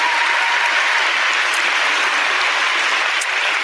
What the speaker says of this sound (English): Look at all them hippies clap.